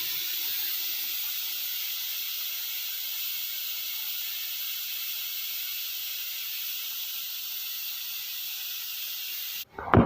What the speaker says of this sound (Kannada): ಅಂತೂ ಇಂತೂ ಫಸ್ಟ್ ವಿಸಿಲ್ ಬಂತು.